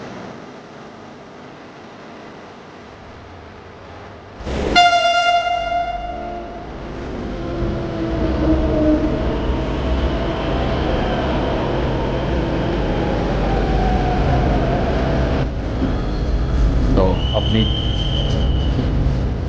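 A Delhi Metro train passes with a steady low rumble, a short horn blast partway through, and a voice speaking briefly under the rolling noise.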